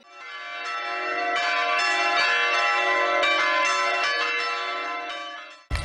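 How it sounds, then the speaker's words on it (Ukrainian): Easter church bells ring together in a dense, sustained peal that swells up and holds loud for several seconds before cutting off abruptly, with no voices. "Лунає дзвонів щемне стоголосся"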